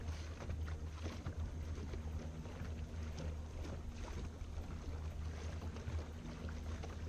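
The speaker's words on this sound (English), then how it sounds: "Going downriver with the trolling motors." Twin trolling motors on a Twintroller X10 boat heading downriver on a current, a steady low hum with water wash and wind buffeting, constant and close throughout.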